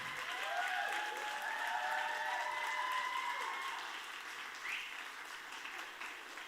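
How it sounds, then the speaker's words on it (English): An audience at an Ignite Liverpool talk claps steadily for several seconds, a dense, even wash of applause that fades slightly toward the end. "please clap."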